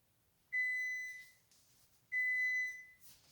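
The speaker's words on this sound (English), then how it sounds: "the timer's just about to go" Kitchen timer beeping during baking: two bursts of rapid high-pitched electronic beeps, each lasting about a second, separated by a short pause and sounding clear and close in a quiet room.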